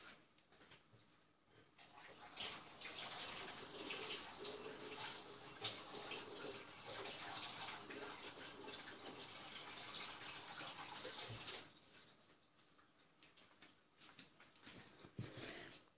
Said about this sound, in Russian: Также подержу их под горячей водой.